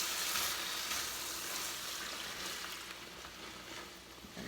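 Broth goes into a pan of Puerto Rican yellow arroz con gandules with smoked turkey and gets stirred in, making a steady, close hiss and sizzle with faint liquid bubbling throughout.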